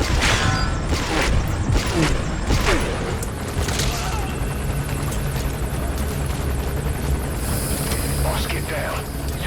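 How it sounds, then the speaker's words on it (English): In Metal Gear Solid V, an enemy gunship helicopter drones overhead with a steady rotor rumble, mixed with booms and mechanical game effects, while voices talk over it. "That's a enemy gunship."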